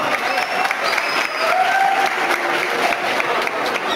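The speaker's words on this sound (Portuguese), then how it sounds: "uma salva de palmas pro Cosmo, pessoal!" An audience applauds after an obedience demonstration by a trained dog, steady crowd clapping sustained throughout with a few faint voices mixed in.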